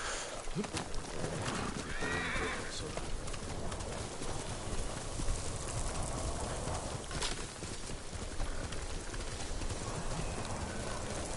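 A horse in the video game Ghost of Tsushima whinnies and clip-clops across ground amid constant ambient noise, with faint birds cooing in the background.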